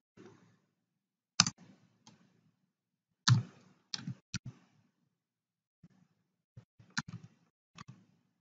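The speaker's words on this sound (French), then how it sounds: "je clique sur Ajouter" A computer mouse clicks several times in a quiet room, sharp isolated taps spaced irregularly, close and fairly soft.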